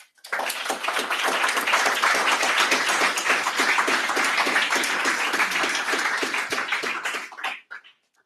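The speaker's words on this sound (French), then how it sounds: "après cette salve d'applaudissements nourrie pour une superbe histoire" A hall audience breaks into sustained, dense applause after a story at a midday talk, loud and even for several seconds before tapering off and stopping abruptly.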